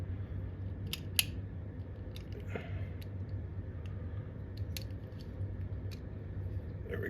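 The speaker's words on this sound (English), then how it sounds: "the last thing I'm going to do is going to put this window, this top on. That's going to lock the whole thing in" Plastic top window snapped onto a reassembled mechanical play counter from a jukebox or pinball machine, heard as a few sharp close clicks and taps over a steady low hum.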